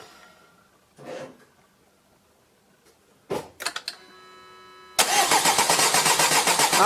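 A 2007 Renault Laguna 1.9 dCi diesel, just fitted with new injector seals, cranks briefly after a couple of clunks, then catches and settles into a loud, steady clattering idle close by.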